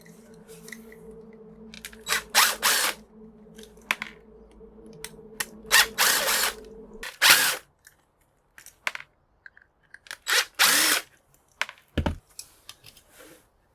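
A power drill backing screws out of brass light switches for scrap, heard as short bursts of whirring spread across the clip, with small clicks and handling knocks in the quieter gaps.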